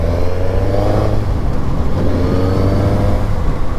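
Stock exhaust of a Suzuki GSX-S 950 roadster motorcycle, a loud steady engine note close by with rising and falling revs throughout, no voices.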